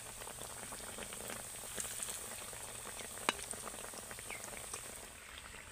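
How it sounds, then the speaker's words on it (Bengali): Potato and flour snacks deep-fry in bubbling oil as they are turned, a constant soft sizzle with occasional sharper pops and a light clink of utensil. "এইভাবে উল্টে পাল্টে কিন্তু ভালো করে একদম লাল লাল করে ভেজে নিতে হবে।"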